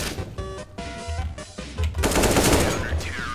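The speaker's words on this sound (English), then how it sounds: "Oh, you're walking while you're shooting." Rapid automatic gunfire in a CS:GO one-on-one match: dense bursts of loud firing that run together into a sustained rattle over about three seconds, with no talking.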